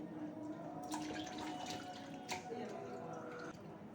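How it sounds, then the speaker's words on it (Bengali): Mutton pieces being washed in water at a kitchen sink, with a steady run of splashing, dripping and sloshing close by and a few louder splashes, and no talk. "মাংসের পিসগুলিকে আমি যতটুকু পারি পরিষ্কার করে ধুয়ে পরিষ্কার করে নেব"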